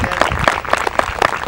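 An audience applauds presenters and performers at an event in a brief burst of clapping with uneven, crackling rhythm, fairly loud and close, with no speech over it.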